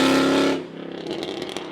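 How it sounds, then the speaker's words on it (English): A Mercedes CLK63 Black Series engine, catless with long tube headers, roars loudly at high revs, then drops off, settling into a lower burbling exhaust with rapid pops. "this car is catless with long tube headers. And so it sounds like that"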